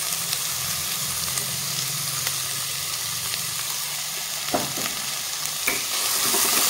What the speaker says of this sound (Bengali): তো গাজর বিনসটাকে আমি সুন্দর করে আমি একটু ভেজে নেব।